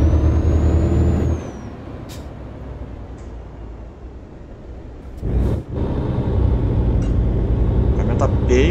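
In Euro Truck Simulator 2, a heavy truck's air brake releases with a loud hiss at the start, then the engine idles and rumbles from the cab; a second burst of air comes midway, with someone speaking Portuguese over it.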